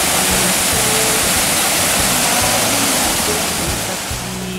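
Steady, dense roar of the Tad Yuang waterfall in Laos, a 40 to 45 metre cascade, a broad continuous rush of falling water filling the whole clip with a low rumbling undertone, close and loud, with no voices.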